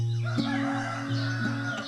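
A rooster crows nearby in rural Romblon, Philippines, a drawn-out, slightly hoarse harmonic call over a steady background hum, with faint clucking from other fowl.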